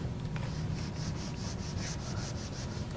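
Writing rubbed off a board during a class, a rhythmic series of soft, rasping strokes, about a dozen in quick succession, close and fairly faint over a low background hum.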